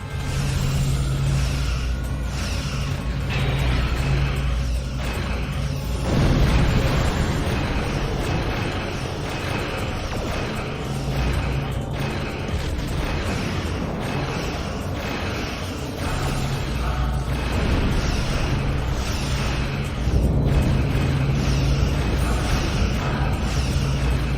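Continuous dense sci-fi battle soundscape from a Star Trek audio drama: starship weapons fire and explosions rumble and whoosh throughout, loud and layered, with recurring bursts and no clear talk.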